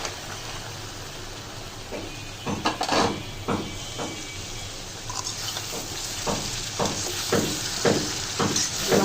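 Flat beans and potatoes sizzle and fry in a pan, a steady hiss broken by repeated scraping stirs at a fairly close, moderate level.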